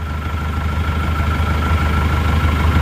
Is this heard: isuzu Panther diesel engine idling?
yes